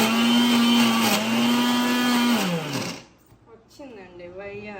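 A kitchen mixer grinder whirs loudly and steadily while blending kunafa ingredients, its pitch dipping as it spins down and stops, after which a voice speaks.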